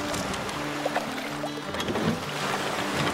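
A raft drifts along flood-swollen river water in a video game, with a steady wash of flowing water and light sloshing around the craft, heard alone without talk.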